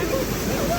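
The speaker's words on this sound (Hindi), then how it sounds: "भयंकर नदी आती हुई ब्यास नदी" Floodwater of the Beas river rushing in a steady, loud broadband roar near a threatened bridge in the hills, a continuous torrent with sloshing and splashing throughout.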